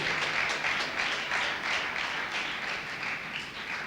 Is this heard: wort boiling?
no